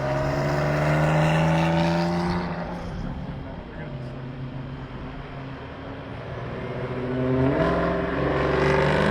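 The Hennessy ZL1 Camaro race car on track at Gingerman, engine roaring and shifting as it passes, followed by another car whose engine swells in near the end, with talk over the top.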